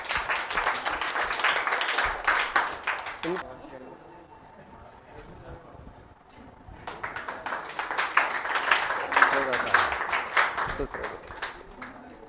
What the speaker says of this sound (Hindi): एक बार जोरदार तालियां हो जाएंगी